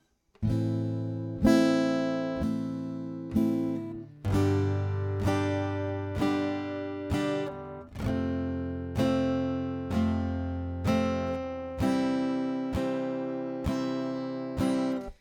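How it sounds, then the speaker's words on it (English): Acoustic guitar chords strummed in a steady rhythm, each chord ringing for four even strums before changing, played alone and close. "we're going to do 4 strums on each of those chords"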